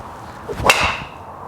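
A single sharp swoosh and crack of a golf driver hitting a ball, close and loud, followed by a fading ring.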